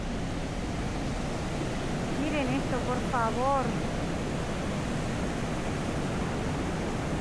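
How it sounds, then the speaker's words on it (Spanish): A river in a storybook Swiss town rushes past as a steady, loud wash of water that fills the whole scene, while a person speaks briefly over it. "el caudal del río es impresionante de bonito"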